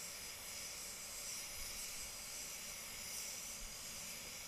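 A spray gun lays a second coat of clear over Poison Ivy Green paint on a VE SS Commodore ute, a continuous airy hiss that stays steady and fairly faint throughout.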